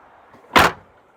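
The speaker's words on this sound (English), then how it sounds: "The hatch opens in 2 sections" The two-section rear hatch of a new rig, said to open like a Land Cruiser's, gives a single short, loud thunk that fades quickly in a quiet setting.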